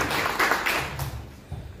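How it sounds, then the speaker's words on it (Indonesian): A church congregation claps during a worship service, a dense, steady wash of applause that fades slightly toward the end of the short burst. "Berikan tepuk tangan buat Tuhan Yesus."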